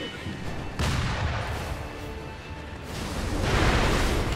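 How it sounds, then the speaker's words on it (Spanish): Firecrackers burst in the video game Sekiro, a few loud booming blasts in quick succession over the game's background noise. "Petardos en tu cara"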